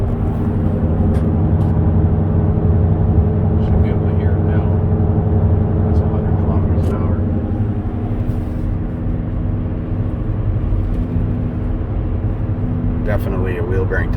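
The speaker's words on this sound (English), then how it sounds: "Definitely a wheel bearing type noise, because when I turn to the right, the noise diminishes." A 2017 Buick Enclave with a worn rear wheel bearing is driven on the road, giving a steady low droning hum and rumble inside the cabin with someone talking over it.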